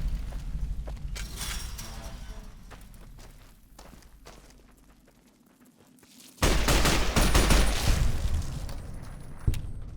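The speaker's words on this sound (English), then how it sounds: "I love this gun, man. Just fires so much freaking faster compared to like the energy weapons I'm used to." Rapid gunfire from a fast-firing gun in the game Fallout: New California, crackling in quick bursts with footstep-like shuffles during the quieter middle stretch, then resuming loud and dense near the end.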